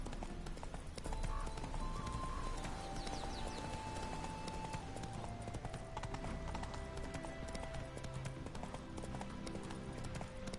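Horse hooves clip-clopping steadily at a trot in the Witcher 3 video game, a continuous rhythmic patter at moderate distance over quiet background, with brief faint talk.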